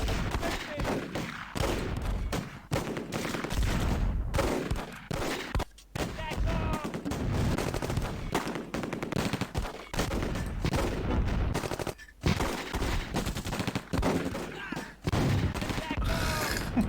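Dense gunfire and machine-gun crossfire from the video game Close Combat, with continuous loud bursts and overlapping shots for the whole stretch and a few brief gaps.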